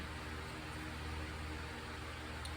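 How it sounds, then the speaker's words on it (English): A steady, low broadband whoosh of a fan runs throughout, with a constant hum and no talking. "That noise is my fan running in the background."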